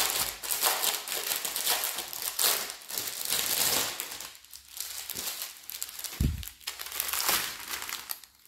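Packets of diamond painting drills being opened, continuous crinkling and crumpling of plastic bags with rustling and tearing, close and fairly loud, one brief thump near the end.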